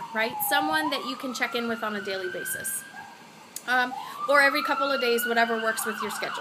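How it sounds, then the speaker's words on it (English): Wailing emergency sirens rise and fall in the background while a person keeps talking over them at close range. "Sorry about the sirens."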